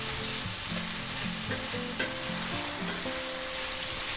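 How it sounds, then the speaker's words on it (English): Onions stir-frying in a pan give off a steady, moderate sizzle throughout, partly masked by melodic background music. "So keep stir frying until you see them get a little more translucent, right?"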